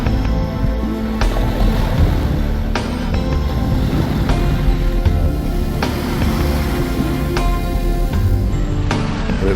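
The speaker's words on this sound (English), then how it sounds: "The beach and water at Alona are wonderful." Ocean surf rolls onto Alona beach in Panglao, a steady full-bodied wash of waves with broad crashes recurring every couple of seconds, close and loud, with a touch of wind buffeting and no talking.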